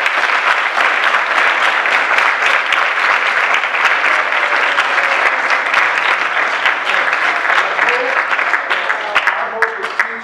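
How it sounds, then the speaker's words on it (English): A room full of people gives a sustained round of applause, dense and steady clapping for about ten seconds that thins slightly toward the end. "Just a quick round of applause here."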